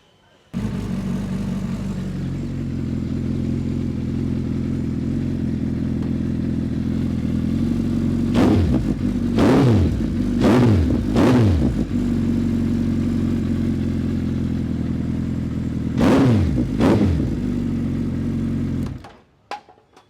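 A Suzuki Hayabusa motorcycle engine idles loudly and up close, then revs sharply several times in quick bursts before cutting off abruptly.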